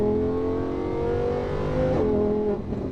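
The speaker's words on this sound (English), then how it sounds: "All the pops. Fun driving that." A Lamborghini Huracan LP610-4 engine accelerates with a steady rising tone, then drops sharply as it shifts and lets off, with a brief crackle of exhaust pops near the end.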